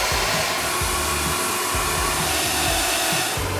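Carpet cleaning machine run over carpet to brush up the fibers, a loud steady whirring drone with low rhythmic thumps as the brush passes back and forth, continuous and close with no talk.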